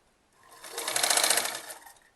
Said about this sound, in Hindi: ये अब मैं दे दूंगी यहाँ से एक और बैक सिलाई, यहीं से एक बैक सिलाई